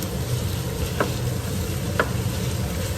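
Ground beef browning in a pan for a macaroni dish, a steady close sizzle with two short scraping knocks as a utensil breaks up the meat.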